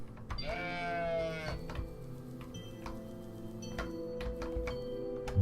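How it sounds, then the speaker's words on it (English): A goat bleats in the pixel-art puzzle game OneShot, one wavering cry near the start set over a steady tonal game-music bed with regular ticking clicks running throughout. "Yeah, Mr. Shepherd, I think one of your goats is a bit possessed."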